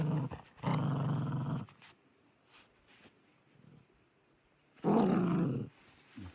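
Pet dog growling and roaring in short bursts while tugging at its toy, two loud throaty snarls about a second long, separated by quiet snuffling and small noises, with no talking.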